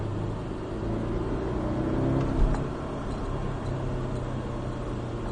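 Porsche 718 Cayman S accelerating on a race circuit, a steady in-cabin engine drone that builds slightly with a brief bump, heard alone without talk.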